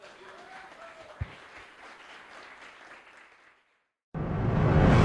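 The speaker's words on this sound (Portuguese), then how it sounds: "Uma salva de palmas ao Senhor." Congregation applause at an evangelical church service in Santo André, a steady wash of clapping that fades into near silence, then a loud, dense burst of sound begins abruptly near the end.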